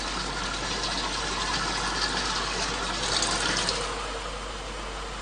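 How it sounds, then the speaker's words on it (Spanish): Water showers spray over milled rice in a processing plant, a dense continuous rushing hiss that stays loud and even throughout. "El arroz pasa por una zona de duchas donde se le retira la fina capa de harina"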